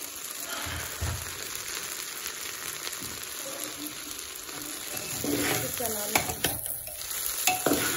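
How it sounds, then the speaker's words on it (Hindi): Rice for pulao frying and being stirred in a pan, a steady close sizzle with scraping spoon strokes and rustling grains that grow busier toward the end. "तो ये चावल को थोड़ा सा अच्छे से जला लेंगे थोड़ा थोड़ा करके जला तो लेते हैं"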